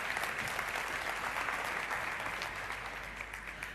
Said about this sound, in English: A warm round of applause for him, please.